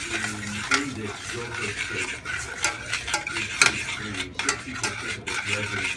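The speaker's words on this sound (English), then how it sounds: "So now you're gonna mix it." Yellow rice with pink beans being stirred in a pot, a spoon scraping and clinking against the metal in a steady rhythm under faint bubbling, close and moderately loud with no talking.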